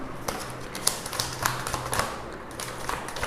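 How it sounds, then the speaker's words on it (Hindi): Tarot cards drawn from a deck give a quick run of light, crisp taps and flicks, close and fairly quiet, with no talking over them. "कुछ कार्ड्स निकालते हैं।"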